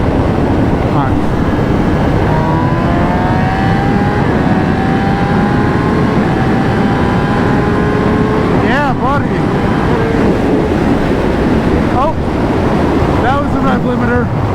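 A motorcycle running a 2 Wheel DynoWorks tune revs while being ridden, engine pitch climbing and dropping through gear changes under heavy wind rush, with a voice speaking over it at times.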